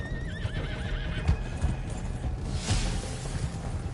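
A horse in Red Dead Redemption whinnies with a wavering neigh while hooves clip-clop in an uneven galloping rhythm, loud and close, with a whooshing swell partway through.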